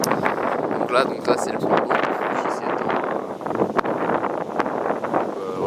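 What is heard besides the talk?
wind at a lake while camping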